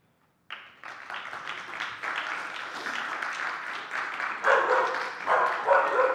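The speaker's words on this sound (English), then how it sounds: "I can make the dogs bark" Applause starts abruptly and swells, with dog barks and yips mixed into the clapping near the end.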